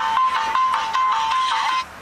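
A telephone ringtone plays in repeated electronic bursts over a steady tone at close range, loud and continuous for nearly two seconds before cutting off, with no one talking over it.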